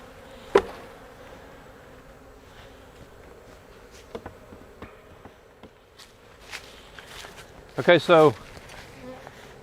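Honeybees buzz faintly and steadily around an opened beehive while a beekeeper handles frames, with scattered knocks, footsteps and a short burst of speech.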